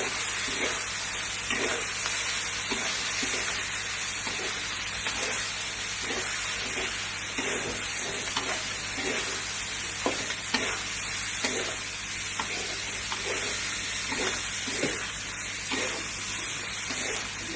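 Steady sizzling of chicken frying in a pan for turmeric fried chicken, with a rhythmic scrape of stirring repeating throughout, no voices.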